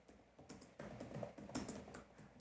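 Quick, light keystrokes on a computer keyboard, close and quiet, tapping in short irregular bursts with small gaps between clusters.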